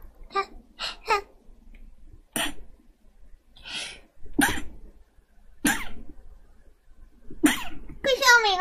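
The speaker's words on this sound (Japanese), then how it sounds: "くしゃみが止まんない。" A woman sneezing again and again, sharp separate bursts spread across the stretch with short quiet gaps between them, close up, with a few brief vocal sounds mixed in.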